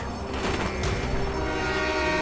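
A train in the Call of Duty Black Ops video game rumbles steadily with a sustained horn-like tone over it, loud and continuous throughout without any talk.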